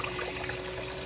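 Water running out of a tap, a soft continuous trickle with a steady low hum behind it, faint and brief.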